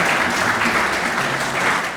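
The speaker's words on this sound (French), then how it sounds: "nous vous demandons de l'applaudir très chaleureusement" An audience claps warmly in honour of Pierre Oba at a formal gathering: thick, continuous applause from many hands, loud and close, staying even throughout before easing slightly at the very end.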